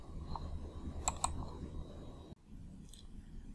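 Keys tapped on a computer keyboard, a couple of sharp close clicks in quick succession, with a quiet pause after them.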